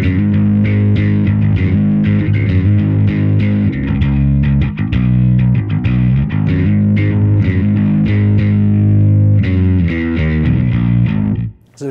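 Heavily distorted bass guitar through a BOSS ME-90B effects unit playing a steady, loud riff with thick, fuzzy low notes, continuous throughout, cutting off abruptly at the end.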